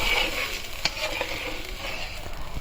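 Spice paste for fish curry sizzles and fries in a pan, a steady crackling hiss broken by a few sharp stirring scrapes, close and fairly loud.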